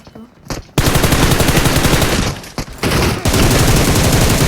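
Rapid automatic gunfire from the PUBG battle royale game, loud bursts of dense repeated shots with a brief lull in the middle before firing resumes.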